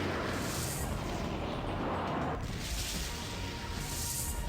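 Explosion attacks in the video game Skies of Arcadia Legends roar as loud, broad blasts that fill the whole stretch, easing briefly in the middle before a second surge.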